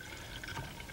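Water flows steadily through a siphon in a tabletop science demonstration, a faint continuous trickling and gurgling with light drips, heard alone.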